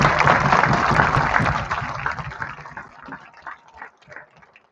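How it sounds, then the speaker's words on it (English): Loud applause from a crowd at an NHS high school graduation ceremony in June 2025, a dense wash of clapping that gradually thins and fades toward the end. "Please give her and everyone else who has made this ceremony possible a huge round of applause."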